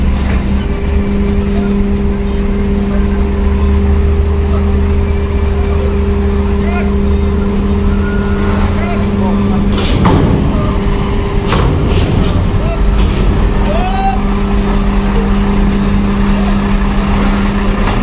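Sun Siliwangi Antar Nusa bus rolling along a road near a port, its engine a steady low drone with traffic noise throughout and a brief louder pass in the middle, heard over a continuous hum.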